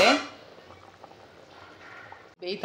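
Kerala-style korma fish sambar masala bubbling in a pot, a soft, steady, quiet simmering hiss with a short clatter near the end.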